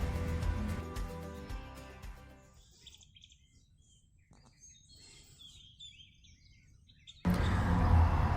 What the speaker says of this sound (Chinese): 第二天早上，我们在密西西比河畔的一阵鸟叫声中醒来